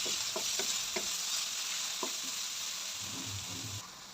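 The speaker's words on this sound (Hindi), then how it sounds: "अब इसको भी हम अच्छे से फ्राई करेंगे" Chopped onions, two large ones, fry in a pan for matar keema, giving a steady broadband sizzle with a few sharp clicks of stirring early on and softer scraping toward the end; no talking.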